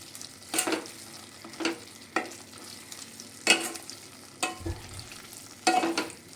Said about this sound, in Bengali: এবার খুব ভালো করে নেড়ে চেড়ে এটা আরও কিছুক্ষণ আমি কষিয়ে নেব।